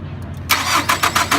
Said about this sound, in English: So go ahead and crank the engine.